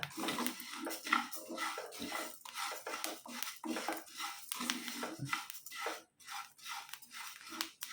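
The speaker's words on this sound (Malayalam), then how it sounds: "തീ ഓഫാക്കിയതിന് ശേഷം നമ്മൾ നല്ലപോലെ ഒന്ന് ഇളക്കി കൊടുക്കണം" Roasted rice flour is stirred in a pan after the heat is switched off. A utensil scrapes the pan in repeated, uneven strokes, close and continuous for several seconds, with no talking.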